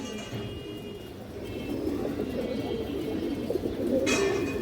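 Domestic pigeons coo in low, rolling repeated calls close by, several birds overlapping in a soft continuous murmur, with a sharper flutter or rustle near the end.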